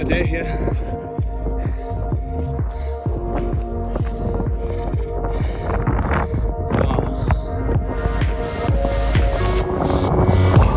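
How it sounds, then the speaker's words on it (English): Strong wind buffets the microphone at the top of a church climb in Ibiza, a loud continuous roar and rumble with gusty throbbing that swells louder near the end. "A little bit windy at the top of our first ascent"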